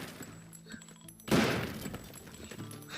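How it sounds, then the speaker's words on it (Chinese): A heavy gunshot blast and crashing debris from destruction in the voxel game Teardown, one loud burst followed by a rumbling, scattering collapse over a couple of seconds amid ongoing game ambience. "咱们用这个枪来破坏"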